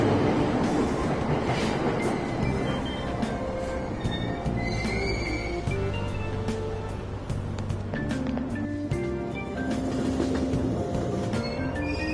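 A Tokyo commuter train in Persona 5 Royal runs steadily with continuous rumble, rhythmic wheel clatter and high metallic squeals throughout, loud and close, with no talking.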